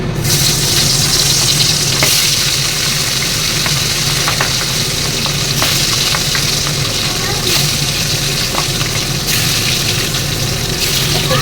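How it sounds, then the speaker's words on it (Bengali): Catla fish pieces frying in hot oil, a loud, continuous close sizzle with a few sharper pops and crackles throughout. "দেখো আমার তেলটা কিন্তু গরম হয়ে গেছে, এই যে মাছ ছাড়ছে"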